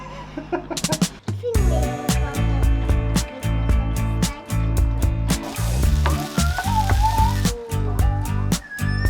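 Food sizzles on a camp stove, giving a loud, close, steady frying hiss with sharp crackles and pops throughout, and a faint voice underneath.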